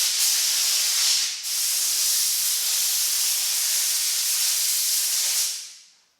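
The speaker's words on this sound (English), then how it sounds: "So I'm going to blow out this seam or this gutter and get all the debris from welding and grinding" Compressed air blasts weld and grinding debris out of the drip rail seam of a 1966 Ford F100 truck, a loud, steady, close hiss with one brief break before fading out at the end.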